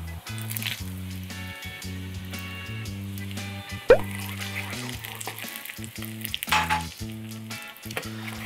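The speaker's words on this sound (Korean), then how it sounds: "고춧가루에다가 기름을 넣어" Chili flakes sizzling in hot oil in a frying pan over high heat, a steady crackling fry under a faint musical backing, with a sharp clink partway through and no talking.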